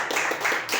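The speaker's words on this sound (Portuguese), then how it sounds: "Dê uma salva de palmas para Jesus" A church congregation claps for Jesus in a brief burst, several quick overlapping hand claps heard close and fairly loud for under a second.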